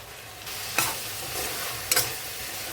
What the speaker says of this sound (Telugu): పచ్చివాసన పోయే వరకు వేపుకోండి